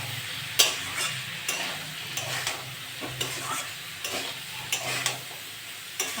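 Shrimp and white greens stems, salted and spiced with chilli powder, crackle in a pan while a spatula scrapes and knocks in a steady rhythm of repeated strokes, close and fairly quiet, without talk.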